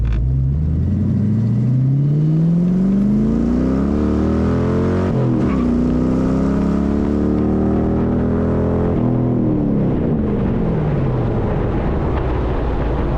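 A home-built Shelby Cobra replica with a swapped Mustang engine pulls hard on the street, its exhaust note rising through the revs, dropping at a shift, then climbing again, loud and close throughout.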